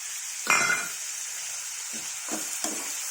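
Pigeon peas tipped into a pan of frying brinjal, a quick clatter and hiss followed by a few softer scraping stirs over a steady sizzle.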